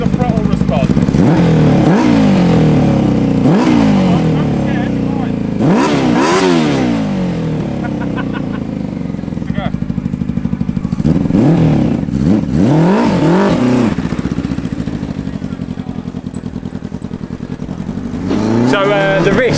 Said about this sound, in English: just get a feel for the throttle response.